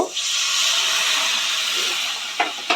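Water poured into a hot pan of prawn paste and pointed gourd sets off a strong, steady sizzling hiss that holds for nearly three seconds, ending with two sharp clinks of a utensil.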